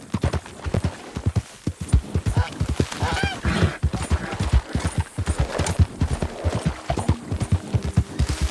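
Horse hooves galloping in Red Dead Redemption 2, a rapid, close, loud clip-clop rhythm running steadily throughout with a brief whinny-like tone midway.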